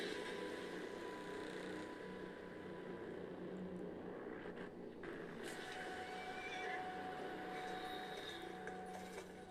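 A horse whinnies in a Ubisoft video game trailer, a steady layered game soundtrack with a long neigh standing out near the start and more horse calls within the dense, continuous mix.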